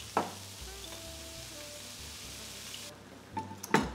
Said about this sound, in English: we're gonna add a bit of that stuff into the pan to saute.